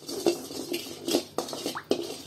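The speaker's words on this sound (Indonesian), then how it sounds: "kita siapkan wajannya untuk kita masak nasi goreng" A metal wok is handled in a home kitchen before frying rice, giving a few light, separate clanks and scrapes spaced irregularly over a couple of seconds.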